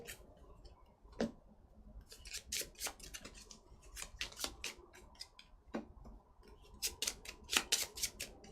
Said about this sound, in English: Let's give these a bit of a shuffle.